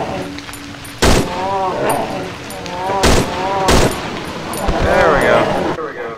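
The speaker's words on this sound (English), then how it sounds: "I switched to a pistol and shoot him in the head." Pistol shots from Cry of Fear crack out sharply, about three loud single reports spaced a second or two apart, with people talking throughout.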